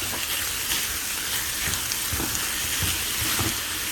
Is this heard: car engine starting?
no